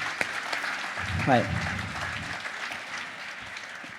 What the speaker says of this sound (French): Applaudissements pour Michael